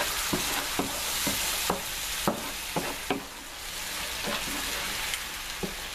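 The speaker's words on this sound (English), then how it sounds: "I just added the puree. I'm stirring it." Tomato puree simmers with a soft, constant sizzle in a pan while a utensil scrapes and taps against it in irregular strokes, close and fairly quiet.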